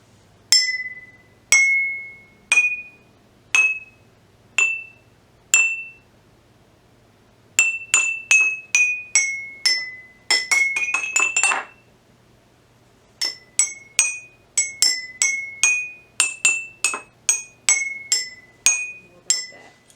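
A metal spoon strikes a glass in a series of bright ringing clinks, first slow and spaced, then a quick rapid flurry, then a steady run of pings with short decays, clear and close with no talking.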